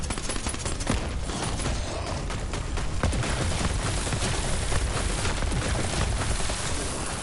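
Assault rifle fire in the shooter game Borderlands 3, rapid continuous bursts of shots layered with booms and combat noise, loud and dense throughout.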